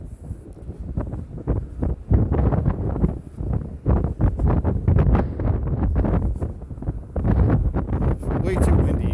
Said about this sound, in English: Way too windy, you guys.